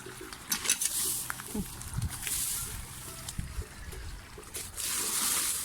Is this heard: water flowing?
yes